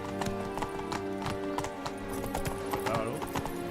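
Horse hooves clip-clop at a steady trotting rhythm while riding in the video game The Witcher 3, sitting close and clear over sustained background music.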